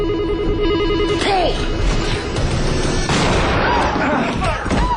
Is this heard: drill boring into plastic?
no